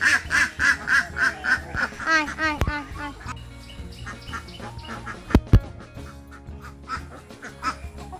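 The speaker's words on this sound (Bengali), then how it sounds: "হাঁসগুলো চলে এসছে" Ducks quack in a quick series of loud, close calls as they gather for feeding in a rural yard, then thin out to scattered quacks, with a couple of sharp knocks and background sounds after.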